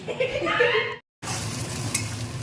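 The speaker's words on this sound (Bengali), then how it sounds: "এই যে ডিম ভাজা হয়ে গেল" An egg fries in a pan on a clay stove, a steady close sizzle that follows a moment of voices and laughter and a brief silence.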